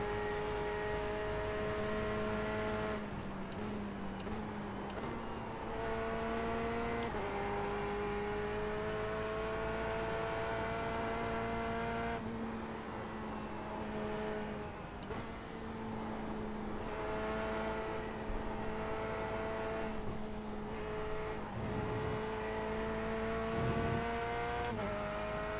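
The Corvette C8R race car engine in iRacing drones at steady high revs, with its pitch stepping through gear changes across a long continuous stretch at moderate level and no voices over it.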